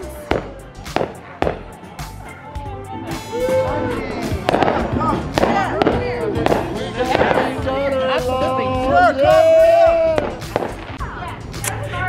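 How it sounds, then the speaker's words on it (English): Fourth of July fireworks go off in a string of sharp booms and crackling bursts, fairly loud and somewhat distant, with people talking and exclaiming over them. "Me and the girls are just enjoying the fireworks over here."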